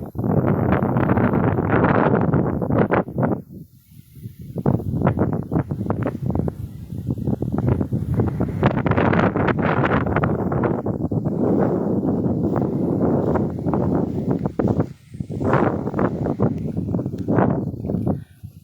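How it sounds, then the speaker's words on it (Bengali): Wind buffets the microphone outdoors beside rice paddy fields near a village tube well, a loud, continuous rushing roar with gusty surges and brief lulls, and no talking. "আজকের বাতাসটা অনেক ভালো লাগতেছে"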